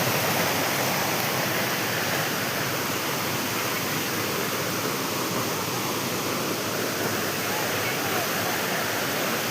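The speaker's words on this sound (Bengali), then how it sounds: "এই এই চারিদিক থেকে জলের শব্দ, ডান দিক বাঁ দিক, ওই যে ওইখানে পড়ছে জলটা কি স্পিডে" Waterfall in Arunachal Pradesh pouring down at speed, a steady broadband roar of rushing water filling the scene without pause, loud and close with no clear talk over it.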